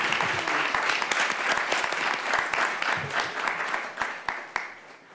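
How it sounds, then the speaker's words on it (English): An audience at a public board meeting claps for a teacher, a dense, steady round of applause from many hands in a hall that fades toward the end, with a few sharper individual claps standing out. "Let's give a round of applause for Mrs."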